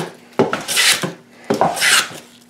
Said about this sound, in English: I'm taking nice, wide, relatively thin shavings, and the surface that I'm leaving behind